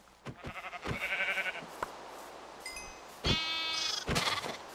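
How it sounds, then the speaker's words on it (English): Sheep in the Minecraft video game bleat several times, a baby sheep among them, in quavering calls interspersed with sharp clicks and footstep-like taps, fairly close and clear with no talking. "It's a baby sheep."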